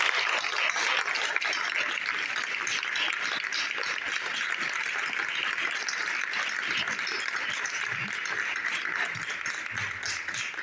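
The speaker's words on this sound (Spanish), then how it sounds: "este aplauso es para nosotros" Audience applause at a radio programme recording in the village of Belchite, a sustained wash of clapping that holds at an even level from start to finish, with a few voices mixed in beneath it.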